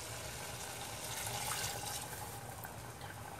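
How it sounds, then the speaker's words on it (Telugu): One cup of water pours into mutton curry in a pressure cooker, a quiet, steady splashing rush lasting a few seconds with no voices. "so one cup water add చేసుకుందాము"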